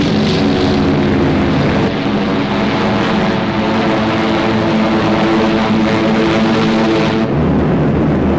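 Bomber aircraft over China flying overhead: loud, continuous droning propeller-engine roar that holds steady throughout, with a slight shift in tone partway, no talk.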